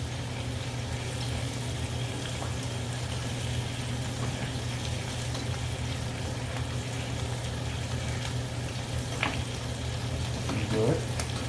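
Rice boiling down in a pot on the stove, with its water nearly cooked off, gives a steady low bubbling sizzle, with a faint scrape near the end as it is stirred.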